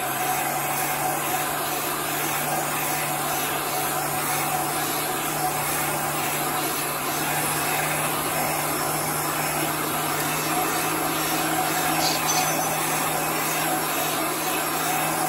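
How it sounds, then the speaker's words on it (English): A heat gun drying a chalk transfer sign runs as a steady, loud, whooshing blower hum with a constant motor whine. There is no talking and little change over its length. "I'm going to dry this really quick with my heat gun."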